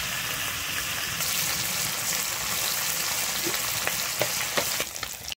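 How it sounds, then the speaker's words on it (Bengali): Tangra fish fry in hot oil, a dense hissing sizzle that swells slightly and then breaks into sharper pops and spatters toward the end, close and loud with no speech. "আমি কিন্তু ট্যাংরা মাছটা এখানে লাল করে ভেজে নেব প্রথমে।"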